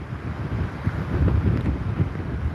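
Strong wind roars against the microphone with waves surging along the Jeju coast during Typhoon Bavi, a loud, continuous buffeting rush with no voices.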